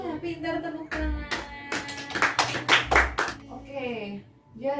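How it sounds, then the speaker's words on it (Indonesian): Children clapping their hands together in a class, a short burst of several close, sharp claps between stretches of a teacher's voice and children speaking. "pintar, tepuk tangan."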